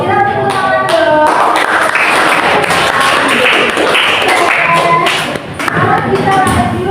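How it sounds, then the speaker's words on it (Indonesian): Schoolchildren in a classroom clap together for several seconds, a dense patter of hands mixed with chattering and cheering young voices. "Kita tepuk tangan dong."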